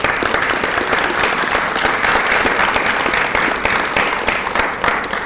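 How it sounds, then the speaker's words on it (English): Audience applause at a youth council swearing-in ceremony, a steady dense clapping from a sizable crowd that holds at full strength throughout without voices. "How about a round of applause for Jesse?"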